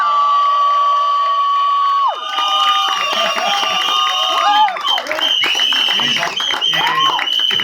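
A crowd at a film trailer launch event applauds and cheers loudly. A sustained tone comes first, then a burst of clapping, shouts and whoops rises and carries on to the end.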